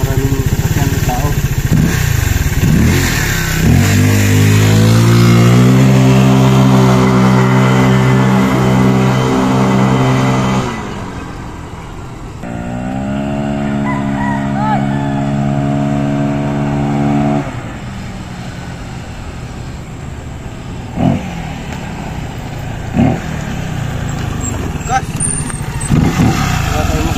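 Honda PCX 160 scooter fitted with a modified Griffin 180i CVT pulley set, riding on a road, its engine rising in pitch as it accelerates, easing, then pulling up again, with passing traffic noise nearby.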